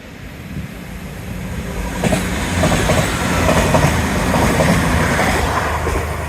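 A train rolls past along a seawall railway, a loud, close, sustained rumble with clickety-clack wheel beats and a faint squeal, steady throughout with no voices.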